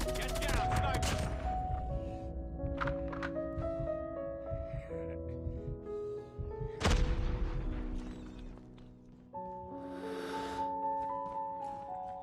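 Sniper gunfire in a first-person shooter game, with sharp shots over layered music and effects and one loud crack standing out near the middle.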